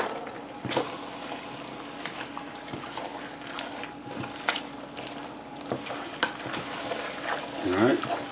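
A spoon stirs a pot of Indian-style chicken soup with chickpeas and corn, giving soft scraping clinks and sloshing liquid under a light simmer, with a few sharper taps against the pot.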